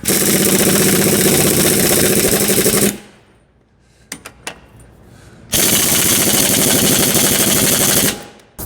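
A heavy impact gun hammers the track reaction arm bolts on a Challenger 2 tank, two loud sustained rattling bursts separated by a quieter pause with a few clanks, close and harsh.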